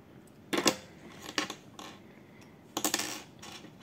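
Scissors snip through pink yarn while an amigurumi cactus keychain is being made, giving three short, crisp cuts close by and spaced apart in an otherwise quiet setting.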